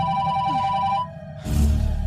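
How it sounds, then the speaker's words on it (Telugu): A telephone rings in bursts of steady electronic tones, then cuts off briefly before a louder burst of noise follows; no speech over it. "ఎడు ఎడు ఎడు ఫోన్ తీ"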